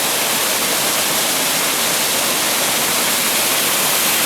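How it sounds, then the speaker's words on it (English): Water rushes steadily down a small cascade on a swollen creek north of Damascus, Virginia, a loud, continuous, even roar with no pauses. "It's definitely a nice little cascade right now, though."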